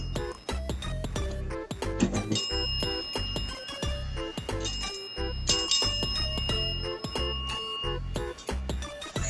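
A bell rings over and over in quick, bright strikes, with sustained high tones hanging between the hits. The sound is close and steady, with no talking.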